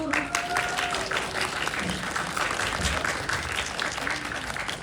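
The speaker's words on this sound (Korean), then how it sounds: "여러분 박수 한 번 더 크게 쳐주세요." A festival audience applauds a film director at an animation film screening Q&A in Bucheon, a steady, even wash of clapping from many hands throughout.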